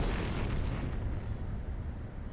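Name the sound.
explosion destroying a cave wall in a video game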